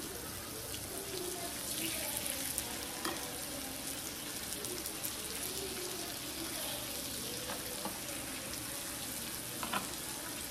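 Beef cooking in a home kitchen pan gives a steady, continuous sizzle with occasional stirring scrapes, moderately close, and faint voices now and then.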